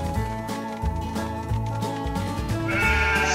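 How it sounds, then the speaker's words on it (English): Cartoon sheep bleat in a Paw Patrol Academy video game, layered over steady game music with bright chimes and effects, the calls short and repeated through the busy mix. "Bring these sheep to me, Marshall."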